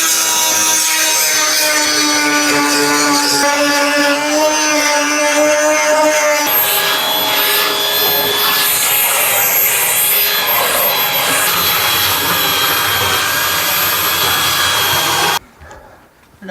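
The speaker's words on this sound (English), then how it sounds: "we're going to start by trimming up the edges on the one that we popped out of the mould" A power tool trims the edges of a moulded side flare for a campervan conversion. It runs loud and steady with a shifting whine and a hard rasp as it cuts, then cuts out at the end.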